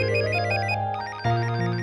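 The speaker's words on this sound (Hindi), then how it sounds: "देख देख, तेरा अश्विन सर का फोन होगा" A phone rings with a bright electronic ringtone melody, a steady repeating tune that shifts pitch partway through, clear and close in an indoor domestic scene with no talking.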